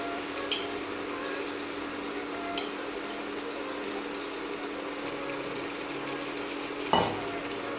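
Mutton being stirred in a frying pan for gongura mutton curry, giving a steady, even sizzle throughout with a sharp metallic clank near the end.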